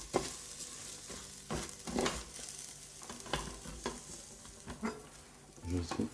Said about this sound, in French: Voilà, je continue à remuer.